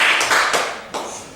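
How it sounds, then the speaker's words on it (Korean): Church congregation clapping for a member during a Sunday service, a brief patter of claps with a few distinct bursts, fairly close and quickly fading. "홍광수 성도님 박수 한번 쳐주세요"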